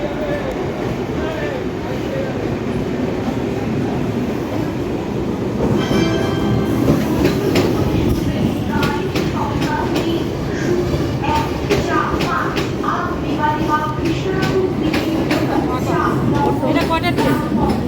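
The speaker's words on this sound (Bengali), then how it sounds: "এটা 9:30টার ট্রেন।" A passing train rumbles loudly and steadily with rhythmic clickety-clack and rattling cars from close by, while voices talk over it.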